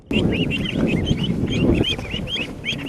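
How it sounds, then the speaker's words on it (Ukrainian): About 150 ducklings peep and quack continuously, many overlapping high calls up close over a busy low rustling background, at a village release onto ponds in Abazivka, Ukraine. "Подивитися на молодих качок ми приїхали в Абазівку"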